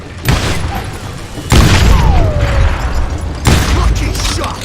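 Gunfire in the Western shooter Call of Juarez: Gunslinger, three loud booming shots spaced about a second or two apart, each followed by a ringing tail, with a brief whistling ricochet after the second.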